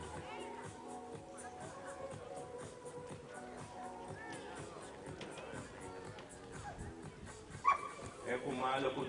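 A puppy at a national dog show whimpers and gives small yips amid crowd chatter and talking, and the sound grows louder and sharper toward the end.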